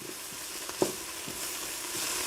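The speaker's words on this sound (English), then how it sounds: "we're just going to move that around in the center of the pan a little bit just to brown it a little" Garlic sautéing in a pan for an end-of-summer soup, a soft continuous sizzle with a few faint scrapes and stirring taps, close and quiet with no talking.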